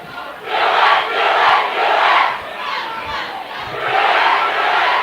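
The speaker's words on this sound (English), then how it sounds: "the Thunderbolt student section starts their Do It cheer" A high school football student section roars its Do It cheer in rhythmic crowd bursts, loud swelling shouts rising and falling several times across the stands.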